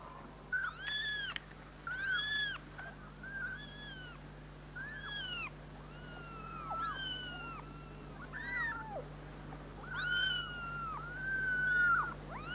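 Several cats meow over and over in a 1989 Greek film scene, their rising and falling cries overlapping against a steady low hum, with no talk.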